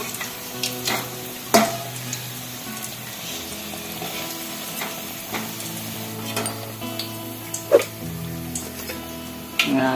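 Banana flower vada frying in hot oil, a steady soft sizzle broken by occasional clinks and scrapes of a utensil, with brief speech in the background.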